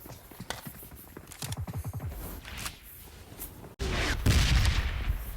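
Machine-gun fire in an online shooter game comes as rapid bursts of shots, then a louder, denser stretch of gunfire and explosions toward the end.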